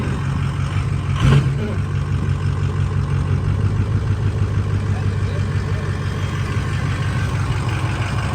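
A diesel mud truck engine idling and running in reverse, a steady low rumble close by with a brief sharp clunk early on, and people talking over it.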